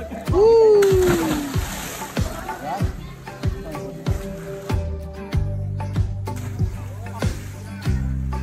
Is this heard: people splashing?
yes